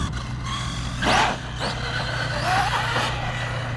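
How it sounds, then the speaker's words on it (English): Arrma EXB V2 RC truck fitted with Garage Life RC parts, running outdoors at the Armageddon 2024 event: two short whining motor bursts about a second and a half apart over a steady background hum. "Got the EXB V2 out here, y'all"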